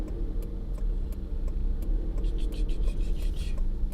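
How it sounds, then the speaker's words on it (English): Low, steady rumble of stalled traffic heard from inside a waiting car, a constant engine and road hum with faint ticking and a murmuring voice underneath. "I'm waiting for traffic and it's not moving"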